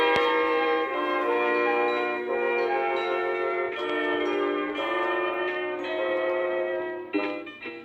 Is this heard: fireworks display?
no